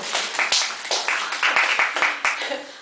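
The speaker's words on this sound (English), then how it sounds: "I love your claps because they're really loving" Poetry reading audience at Hugo House clapping, with a quick run of sharp, irregular hand claps close by that carries on steadily for the whole stretch.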